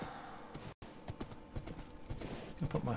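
Steady hoof clip-clops from a horse in Minecraft sound close and fairly quiet, with a brief dropout partway through.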